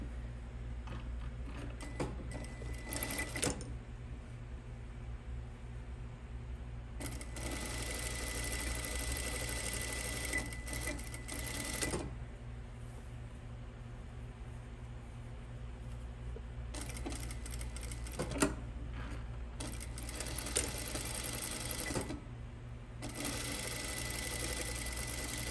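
A sewing machine stitches pajama shorts in several runs of rapid, steady mechanical whirring, separated by quieter pauses with a low background hum, close and fairly loud.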